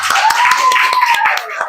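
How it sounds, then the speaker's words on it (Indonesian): Classroom group clapping along during a teaching session, sharp distinct hand claps in an uneven rhythm over a sustained sung or hummed voice, close and loud. "Ayo, tepuk tangan untuk kita semua"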